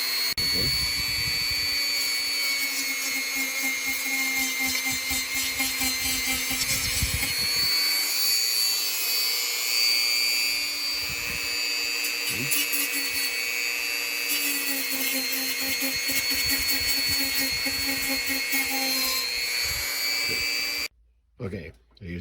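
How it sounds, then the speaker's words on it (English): A Dremel rotary tool grinds down the outer cover of a Bible being rebound, a loud continuous high-pitched whine that holds for about twenty seconds before cutting off, followed by a few brief clunks. "Okay, I used the Dremel."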